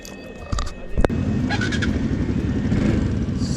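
Around 25–30 motorbikes gather at the start of a group tribute ride, engines idling in a steady low rumble, with a sharper rev burst near the middle and faint background activity throughout.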